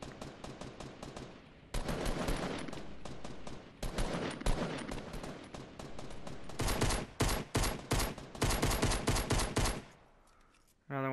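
Rapid video-game gunfire in Fortnite Battle Royale: dense automatic bursts and repeated shots come in loud clusters, broken by short pauses, with the firing continuing almost throughout.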